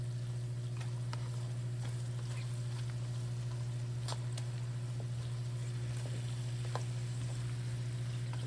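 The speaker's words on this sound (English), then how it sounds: "So I'm gonna let it cook down with this garlic and butter and my lemon juice." Lamb chops cooking down in garlic butter and lemon juice, a soft continuous sizzle with faint scattered pops, low and steady over a constant background hum.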